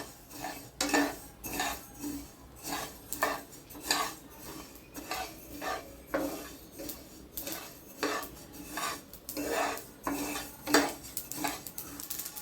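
Sesame seeds dry-roast in a pan without ghee while a spoon stirs them, scraping and clinking against the metal in a steady repeating rhythm, close and fairly quiet, with no talking.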